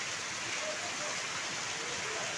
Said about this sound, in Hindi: देखो बहुत ज़बरदस्त बारिश हो रहा है यहाँ पे